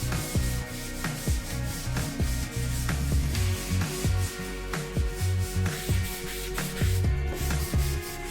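Dried spackling paste over nail holes in wall paneling is sanded smooth by hand, a continuous close rasping rub in quick back-and-forth strokes with no one speaking.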